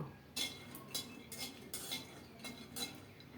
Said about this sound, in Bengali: কড়াইতে দুইটা শুকনো মরিচ ভেজে নিচ্ছি এখন দিলাম বাদাম